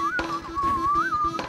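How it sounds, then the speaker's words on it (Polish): A train whistle in an animated children's cartoon sounds as a steady wavering tone with rhythmic chugging beats underneath, fairly loud and continuous. "Znam ten gwizd!"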